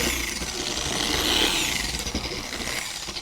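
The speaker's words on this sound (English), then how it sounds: "So we're gonna pump it a few times on our paint. We're just gonna get it spread around a little bit." Car polisher whirring steadily at low speed with a feathered trigger as it spreads compound across car paint, a continuous close motor drone with a slight rise and fall.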